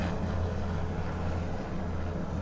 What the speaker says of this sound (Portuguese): Deixa o helicóptero passar.